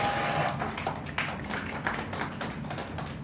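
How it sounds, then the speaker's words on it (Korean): A church congregation claps along at a gathering, producing a steady, moderately loud stream of hand claps over a low background murmur. "우리도 박수 하실게요"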